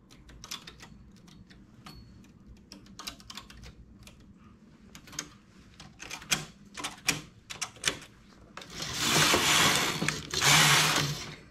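A domestic knitting machine's carriage clatters across the needle bed while a baby-blanket trim is knitted, with scattered clicks and taps building to two long, loud sliding rasps near the end; no talking.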